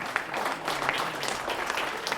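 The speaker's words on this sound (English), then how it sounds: "yes, you can clap" An audience at a Rotary Foundation celebration claps steadily for a couple of seconds, a dense patter of hands in a room.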